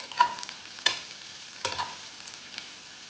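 Food, likely the base for a pasta dish, sizzles quietly in oil over a medium flame, with a low steady hiss broken by a few sharp scraping stirs of a spatula in the pan.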